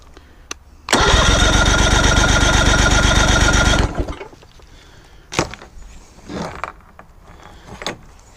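An outboard motor cranks over for about three seconds during a compression test, a loud, rapid, even chugging of the starter with no firing, then stopping, followed by small clicks and handling noises.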